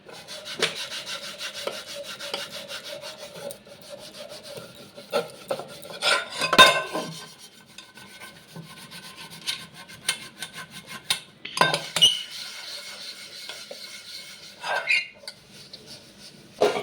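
A greasy kadai is scrubbed with Thums Up soda, producing close, rhythmic rasping strokes with a few louder scrapes and clanks of the metal pan.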